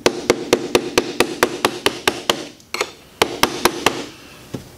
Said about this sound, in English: So as I tap this apart, you'll notice that that ring is loosening.